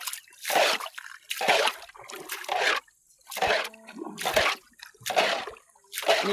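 Water splashes and sloshes inside a small boat on a lake, in repeated bursts about once a second, close and fairly loud, as if being scooped or thrown out.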